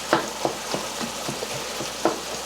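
Ground beef browning in a pan for red chili and being chopped into small bits, a low steady sizzle with irregular scraping taps of a utensil against the pan.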